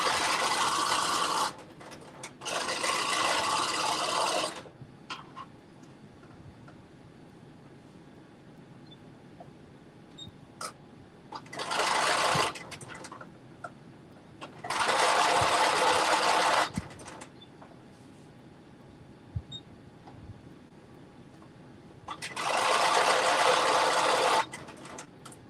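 Sewing machine stitching fabric for a Butterick jumpsuit: five separate bursts of steady, rapid mechanical whirring, each a few seconds long, close by, with quiet stretches of faint handling noise between them.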